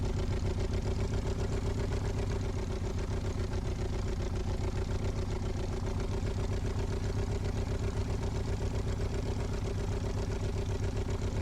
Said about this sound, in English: a small engine ticking over appropriate to the 85 horsepower that we have on board